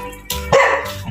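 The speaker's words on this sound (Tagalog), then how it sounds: "Ha, yan ang aso." A dog barks close by, giving two quick, loud barks in a little over a second.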